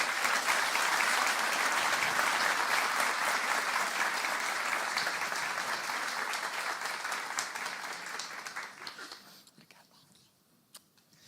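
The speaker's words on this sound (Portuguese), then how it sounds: "uma salva de palmas para a Ana Isaac" A congregation at a church service applauds a guest speaker, dense clapping that fills the room loudly and then thins and fades toward the end, with a few scattered claps left.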